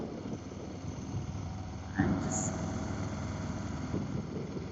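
A Harley-Davidson motorcycle with a stock muffler runs at a steady, low, deep idle close by, continuous throughout with a brief bump partway through.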